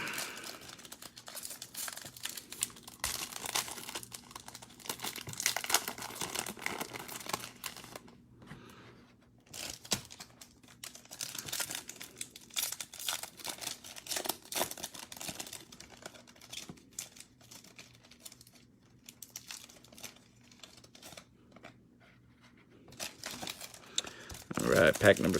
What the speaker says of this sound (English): Move these there and rip them up.